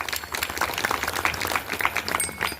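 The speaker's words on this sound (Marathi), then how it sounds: "त्यांच्यासाठी मोठ्याने टाळ्या वाजवा सर्वांनी" A kirtan audience at a Shiva temple gathering claps loudly and continuously, dense crowd applause with sharp individual claps standing out throughout.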